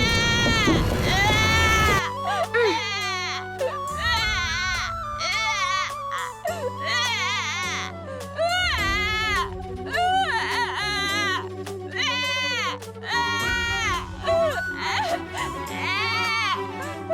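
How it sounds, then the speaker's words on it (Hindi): An infant wails continuously in a mythological TV drama scene, the loud crying rising and falling in repeated sobbing bursts over a constant low musical backing. "हाँ, शिशु के रोने की ध्वनि।"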